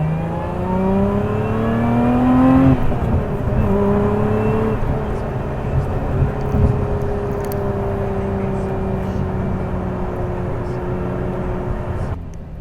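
A Lotus Emira sports car drives on a track, its engine droning loud and close, revving up in pitch early on, then holding a steady, throaty note throughout.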